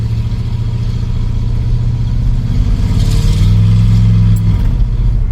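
Ford Ranchero with a 3-speed automatic pulling away, its engine a steady loud rumble that swells as it drives off, heard from inside or close by.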